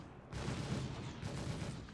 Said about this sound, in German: die Ninetales und die Piraten, die schießen gerade aufeinander